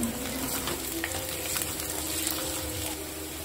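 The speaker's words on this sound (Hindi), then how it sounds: "अब इसमें अदरक ऐड करेंगे।" Sliced ginger added to hot oil with frying onions in a kadai, a steady dense sizzle with faint stirring ticks, close and continuous, without talk.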